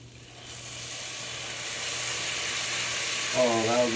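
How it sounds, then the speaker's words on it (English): Sizzling pan of empanada filling as chicken broth is poured in, a steady broadband frying hiss throughout that flares louder near the end, with a brief voice over it. "Oh, that was a big sizzle."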